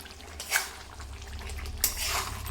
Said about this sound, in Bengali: দিয়ে নাড়াচাড়া করে